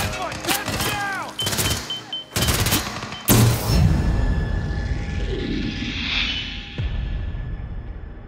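Rifle gunfire in the video game Hitman 3 cracks out in a rapid cluster of sharp, loud shots early on, followed by a rumbling, whooshing aftermath and lingering noise.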